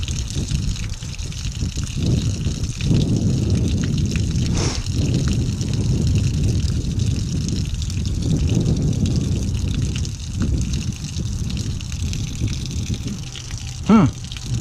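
Dirty water draining out of an old water heater, a steady close gush and splash running throughout, with someone talking intermittently over it.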